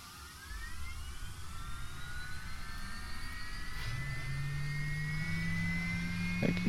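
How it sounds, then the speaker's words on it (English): Aircraft engine starting up in a flight simulator game: a turbine whine climbs steadily, then a low steady drone sets in and builds as the engine spools up, with no talk over it. "let's actually start the plane"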